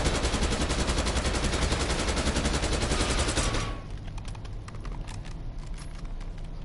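A gun firing in Call of Duty Black Ops 6 multiplayer: one loud, sustained rapid-fire burst lasting several seconds, then a sudden stop that leaves faint scattered clicks and quiet game noise.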